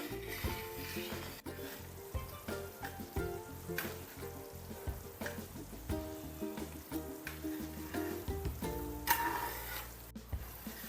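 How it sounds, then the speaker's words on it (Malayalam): Coconut milk cooks down toward virgin coconut oil in a pan, giving a steady close sizzle and bubbling frying sound with frequent stirring scrapes and clicks and no talk. "ഇത് വറ്റി വന്നു തുടങ്ങിയിട്ടുണ്ട് ഇത് പെട്ടെന്ന് തന്നെ വെളിച്ചെണ്ണ തിരിഞ്ഞു വരും"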